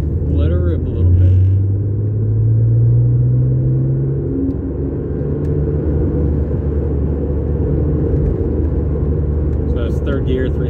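A 121,000-mile Subaru car accelerates hard, its engine a loud, steady rumble with rising tone as it pulls through the gears, close and continuous for the whole stretch.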